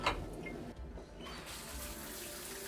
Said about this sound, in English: There is a large shower with a great looking overhead rain component to it.